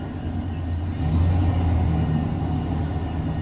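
A car engine idles steadily just after being started, running lean, giving a continuous low rumble at close range with a slight rise in intensity partway through.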